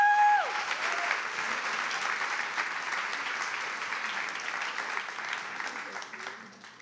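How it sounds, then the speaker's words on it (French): Audience applause for supporters at a business school fashion marketing final project event, a dense, steady wash of clapping from a large crowd that holds strong throughout and eases slightly toward the end. "ils méritent une grande main d'applaudissements eux aussi"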